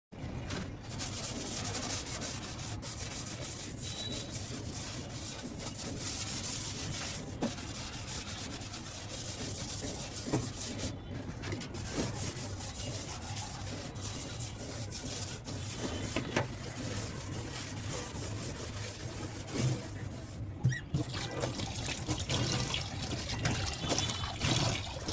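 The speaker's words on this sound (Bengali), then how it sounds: "থালা বাসন অল্প কয়টা ছিল ধুয়ে ফেলছি। এখন বেসিনটা পরিষ্কার করে ফেলবো।" Dishes washed and a kitchen basin scrubbed under running water, a continuous close rubbing and scouring hiss with trickling water and occasional clinks, going on for a long stretch.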